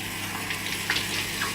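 Water from a tap running into a blender jar as it is rinsed out after making green juice, a soft steady gushing with light splashes, faint and close.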